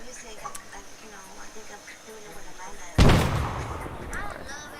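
A training grenade detonates with a single loud, sharp blast followed by a rumbling decay, preceded by outdoor chatter and voices in a military training exercise.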